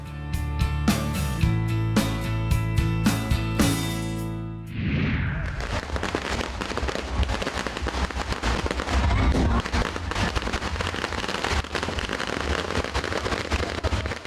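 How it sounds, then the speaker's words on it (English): Firecrackers burst during a street procession, a dense, continuous crackle of rapid pops following a short stretch of music. "there was this huge stock of ammunition of firecrackers during the procession that people took along"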